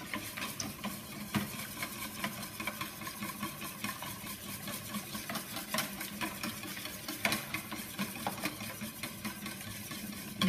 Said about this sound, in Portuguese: Mexendo depressa porque a mistura está quente.